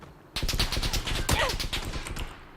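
Rapid automatic gunfire in PUBG rattles out in a sustained burst of sharp, evenly spaced shots, fairly close and loud, with a faint voice briefly underneath.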